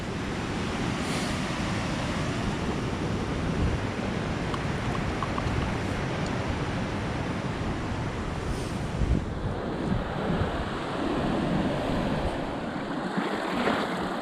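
Creek water rushes steadily beside a hiking trail on the Great Divide Trail between Waterton and Coleman, a dense continuous wash with some wind buffeting the microphone.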